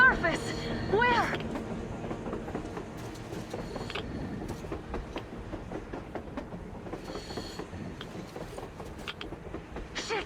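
A train on the surface in Metro Exodus rattles and clanks with rhythmic clickety-clack and metallic screeches, fairly faint beneath other game sounds, with a voice speaking early on.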